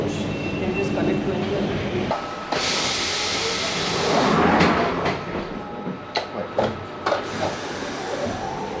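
London Underground Waterloo and City line tube train running between Bank and Waterloo, its loud rumble and whine building with rattles and clicks, then thinning into sharp clunks and squeals as someone talks over it.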